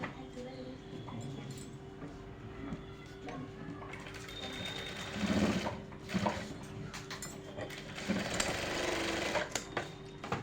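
A sewing machine hums steadily as it stitches a seam on a collared blouse, its whirring continuing under someone speaking Hindi throughout.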